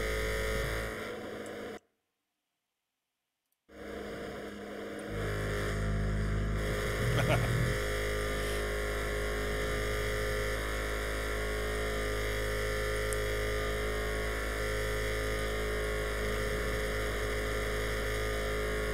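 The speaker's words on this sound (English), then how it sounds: "This engine sounds like it ain't gonna have no problem" A vehicle engine idles and runs in the video game GTA, giving a constant, even, droning hum with a tonal buzz. It starts after a short gap of silence and holds steady at a moderate level.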